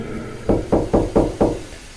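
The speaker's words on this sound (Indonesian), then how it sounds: "Terdengar lagi suara ketukan pintu." Five firm knocks on a door in an even, quick rhythm, each a dull, solid thud, close and loud against a quiet background.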